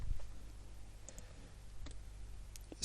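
Sparse, faint clicks and taps on a computer keyboard as a function is typed into GeoGebra, with a few light keystrokes scattered over quiet room hiss.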